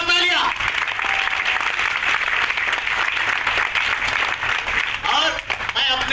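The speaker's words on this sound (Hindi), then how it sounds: "एक बार जोरदार तालियां" An audience claps loudly at a trophy award ceremony on stage, sustained dense applause that fills the whole stretch and swells slightly near the end, with a few brief voices mixed in.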